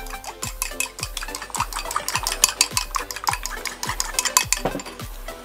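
A single egg being whisked briskly in a bowl for a Korean sundubu jjigae, rapid rhythmic clicking strokes against the bowl, close and steady for several seconds.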